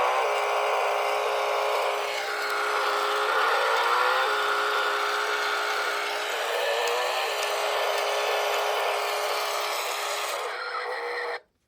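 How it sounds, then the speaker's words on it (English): A small toy motor runs slowly with a steady, high buzzing whine that holds for about ten seconds at close range before cutting off abruptly. "But it also feels like the motor feels very slow."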